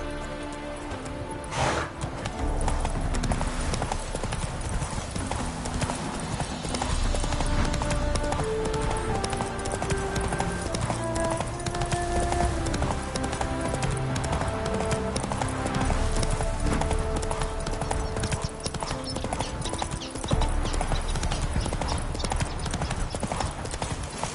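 Horse hooves gallop in a steady, continuous clip-clop rhythm while riding in The Witcher 3, close and prominent over a dense layer of game music and ambience throughout.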